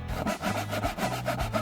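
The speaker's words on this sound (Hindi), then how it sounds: "आरी से कोशिश करती हूँ।" A hand saw cuts through wood in a steady back-and-forth rhythm of rasping strokes, loud and close, with no voices over it.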